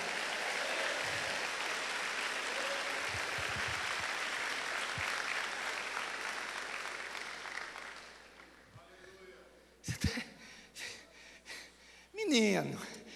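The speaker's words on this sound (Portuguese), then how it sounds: "Agora pode aplaudir." Applause from a church congregation during a sermon, a broad wash of clapping for about eight seconds before it fades out and close breathy sounds and speech take over.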